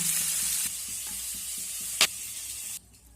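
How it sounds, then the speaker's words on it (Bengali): Prawns frying in oil in a kadai for a prawn malai curry, a continuous close sizzle with a few scrapes and one sharp clatter, cutting off abruptly near the end. "উল্টে পাল্টে ভেজে নিয়েছি এবার আমি এগুলোকে তুলে নেব"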